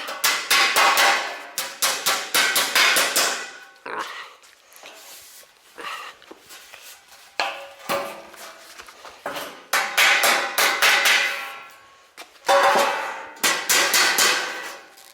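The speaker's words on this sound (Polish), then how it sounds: "Trochę bym to tutaj musiał dobić" Bursts of fast hammering on car body sheet metal in a workshop, rapid loud metallic blows in clusters separated by short pauses and quieter clanks, close up, with no voices.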